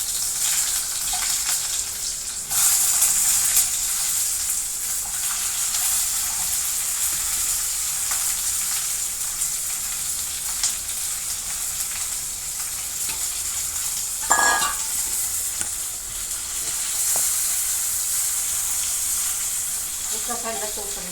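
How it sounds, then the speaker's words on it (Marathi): Stuffed masala brinjal frying in hot oil in a pan, a steady loud sizzle running throughout with occasional stirring scrapes and a brief louder burst partway through. "हे भरलेले मसाले वांगे तुम्हाला तेल गरम झाल्यानंतर तेल टाकायचं."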